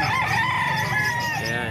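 A young stag gamecock crows nearby in a short, loud call, with faint background chatter.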